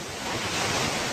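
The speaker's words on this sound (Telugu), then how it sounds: "water ఫాలే water fall" Gundala waterfall roars as a steady, dense rush of falling water, loud and unbroken for a brief moment.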